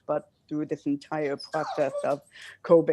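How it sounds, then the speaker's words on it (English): A dog whimpers and yips in the background during a city council meeting held remotely, while a person keeps speaking over it. "I'm so sorry, that's my dog."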